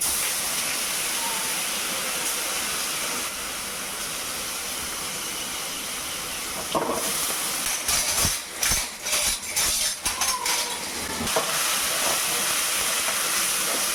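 Ginger garlic paste sizzles and hisses steadily in hot oil as it is sautéed, a broad continuous frying hiss with a burst of louder crackling and spatter in the middle stretch.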